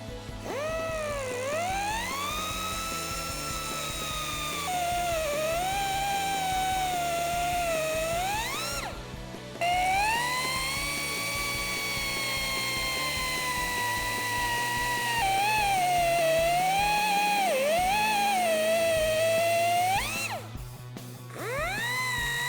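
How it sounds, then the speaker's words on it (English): Cut-off wheel slicing through truck wheel studs on a 2007-2018 Silverado, a loud sustained high-pitched grinding whine that rises and falls in pitch across three long cuts separated by brief pauses. "we have our cut-off wheel, and we're gonna go ahead and cut all 3 of these studs."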